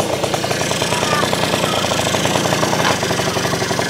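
An old classic motorcycle engine idles steadily after the throttle settles, a loud, rapid, rough mechanical chatter pulsing evenly throughout at close range, with no speech over it.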